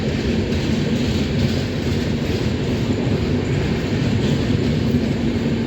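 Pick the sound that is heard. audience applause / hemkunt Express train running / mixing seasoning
hemkunt Express train running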